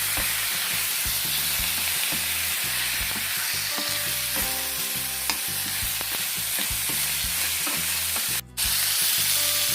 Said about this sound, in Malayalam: നമുക്കിതിലേക്ക് ചിക്കൻ ചേർത്ത് കൊടുക്കാം. ഒന്ന് മിക്സ് ചെയ്തെടുക്കാം.